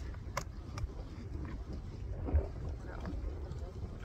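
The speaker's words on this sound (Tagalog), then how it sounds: "Basta hangin na guys. Hangin kaayo din." Strong wind buffets the microphone with a constant low rumble and gusty roar, close and loud, with faint sounds of water and voices beneath.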